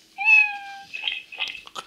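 A single clear, rising-then-falling cat meow up close, followed by faint scattered clicks and rustling.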